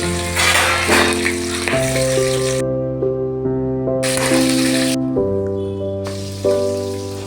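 Green chillies and urad dal fry in a pan with a steady crackling sizzle, close and fairly loud, with a melodic musical tune playing underneath.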